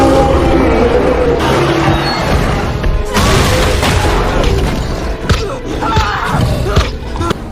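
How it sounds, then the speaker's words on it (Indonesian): A massive explosion from a Jurassic World film scene, where a dinosaur is blown up with a gas canister, roars as a loud, sustained rumbling blast with crashing debris and thuds throughout. "Hingga akhirnya, Darius berhasil meledakkan si Toro"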